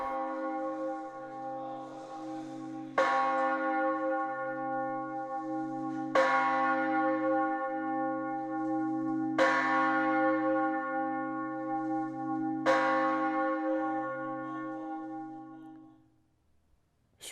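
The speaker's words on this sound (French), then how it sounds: "L'occasion pour nous d'entendre les premiers tintements de la cloche maîtresse," The Paccard foundry's master church bell for the Ars Sonora rings four slow, evenly spaced strikes, each long resonant peal layered over a steady sustained hum, clear and close before fading to near silence.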